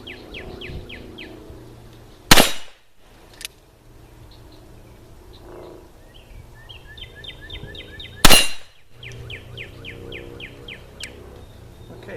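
Two loud, sharp gunshots from a .45 Colt Ruger Vaquero single-action revolver with a 7.5-inch barrel, fired several seconds apart outdoors, each a hard crack with a brief decay, over steady birdsong.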